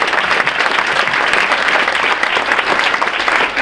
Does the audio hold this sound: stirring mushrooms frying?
no